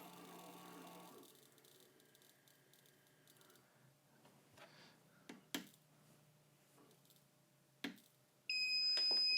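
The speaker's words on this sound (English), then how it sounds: "So now, every time I click a button, it makes a beep." An RCBS Chargemaster 1500 powder dispenser gives a few sharp electronic beeps at button presses, faint clicks amid a quiet room, then a steady louder tone at the end.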